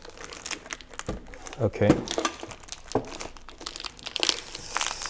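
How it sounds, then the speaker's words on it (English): Foam packaging crinkles and scrunches close by as an ICY DOCK FlexCage 5-bay 3.5-inch hard drive hot-swap cage is lifted out, in irregular rustling bursts while someone briefly speaks. "Let's take it out of the foam. So very nice packaging."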